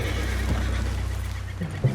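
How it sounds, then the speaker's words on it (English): A horse in Red Dead Redemption 2 gives a short whinny over a low, steady background hum, with a soft thud near the end. "What's wrong with this horse?"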